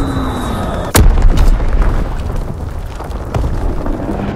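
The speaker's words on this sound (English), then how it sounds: "Fritzek bomb mission on the way" A bombing strike in Call of Duty: WWII lands as one sudden loud boom, followed by a rolling rumble of explosions and a smaller blast a couple of seconds later.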